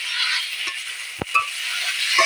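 Oil sizzles in a pan for an egg curry, a bright continuous hiss marked by a few sharp spatula scrapes and knocks as it is stirred.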